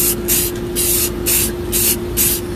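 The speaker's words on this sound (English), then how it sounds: "when you're doing this with a spray can, it ain't the best thing in the world" Aerosol spray can applying paint outdoors in short repeated bursts, each hiss lasting about a quarter second with brief pauses between, close and fairly loud over a steady low hum.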